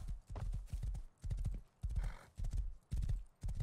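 A horse in the video game Rust trots along with rhythmic clip-clop hoofbeats, close and regular. A brief whinny sounds in the middle.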